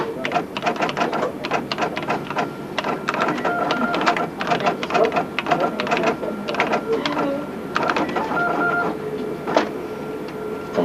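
Telex machine in Australia typing out a message, a dense, continuous chatter of rapid mechanical keystrokes and clacks with bursts and slight pauses, close and fairly loud throughout.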